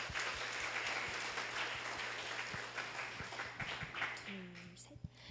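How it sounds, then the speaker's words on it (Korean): Applause from an audience at a university festival results presentation, honouring participants who completed CPR training; steady, moderately distant clapping fills the whole stretch, with a few sharper claps and a brief voice near the end. "심폐소생술 교육을 수료한 여러분 모두에게 큰 박수 부탁드립니다."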